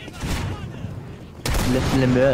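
Gunfire in the video game Guts & Blackpowder, with a quick run of shots followed by a sudden louder blast, under a voice speaking.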